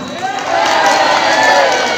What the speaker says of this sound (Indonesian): tepuk tangannya berhenti dulu ya